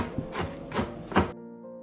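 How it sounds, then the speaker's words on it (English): Knife chopping hard biscuits on a chopping board into crumble for a dessert topping, three loud rhythmic scraping chops close up, then quiet. "Suddenly my friend had an idea on using the knife and chopping board."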